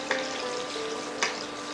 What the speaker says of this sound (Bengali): এবার অবশিষ্ট তেলে ফোড়ন দিন কালো জিরে এবং তার সাথে মাথা চেরা বেশ কয়েকটি কাঁচা লঙ্কা।